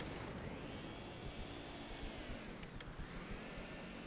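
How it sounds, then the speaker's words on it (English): A vacuum from the Luigi's Mansion video game, played with a GameCube controller, gives a faint, steady airy whoosh that holds without a break for several seconds. "Hear the vacuum?"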